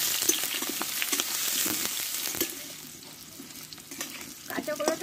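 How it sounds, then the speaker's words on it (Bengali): Cut raw green bananas stir-fry in a pan, hissing steadily with a sizzle while a spatula scrapes and stirs in repeated strokes, fairly close and with no talking. "এই কলাটা আমি ভালো করে একটু কষে নেব।"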